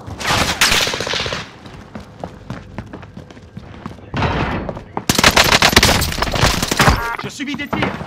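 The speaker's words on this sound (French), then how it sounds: "Je subis des tirs." Dense automatic gunfire rattles in a Warzone battle royale match, loud and close, with bursts of rapid shots, brief lulls and overlapping weapon fire, while voices and game announcements sound over the action.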